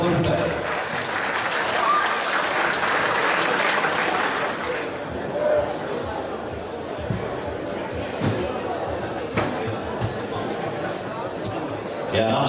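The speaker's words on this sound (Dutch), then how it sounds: "mag ik een applaus voor deze beide kanjers" At the end of a demonstration match, an audience gives a burst of applause that fades after about five seconds into chatter, scattered knocks and a few voices in the hall.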